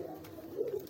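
A pigeon that has just had its eggs removed gives a brief, low coo at close range, swelling slightly near the end, with no voices.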